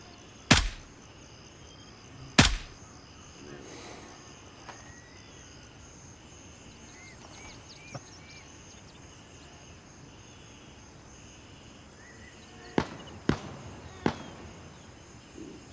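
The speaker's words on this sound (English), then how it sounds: "Someone's shooting." Gunfire in the video game Crimson Shield PVE: a few sharp, distant-sounding cracks, two early and a quick cluster near the end, separated by long stretches of quiet ambient hum.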